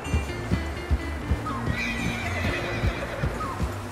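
Horses whinny in the video game Red Dead Redemption 2 over a steady rhythm of hooves clip-clopping, with several animals heard fairly close.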